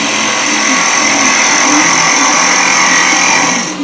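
A carbide chisel cutting a spinning piece of wood on a lathe while riding the bevel, giving a loud, steady whirring whine with a high tonal edge that holds evenly, then drops away at the very end.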